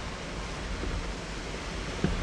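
A waterfall rushing beside an off-road trail in the San Juan Mountains of Colorado, heard as a dense, steady roar of water without pause or voices.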